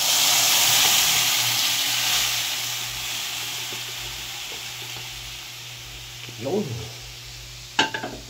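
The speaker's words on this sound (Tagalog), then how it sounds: "At medyo na-brown na yung ating sibuyas bawang. Ilalagyan natin si munggo." Onion and garlic sizzle and hiss steadily in a pan, then mung beans tumble in with a couple of clattering thuds near the end. A voice speaks briefly over the frying.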